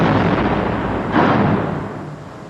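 Artillery shelling near a Druze village, a heavy rumbling blast that swells sharply about midway, then decays into a long fading roar over a steady low background.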